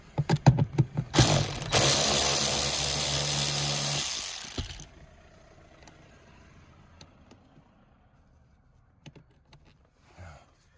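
A power tool buzzes steadily for about four seconds while removing T20 Torx screws during Renault Fluence handbrake cable work. Brief clicks come before it, and after it stops, faint handling sounds follow in near quiet.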